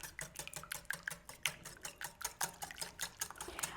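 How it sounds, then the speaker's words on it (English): Two eggs are beaten in a bowl with a hand whisk, a quick, fairly regular run of light clicking taps of wire against the bowl, close but quiet. "Whisk all that together."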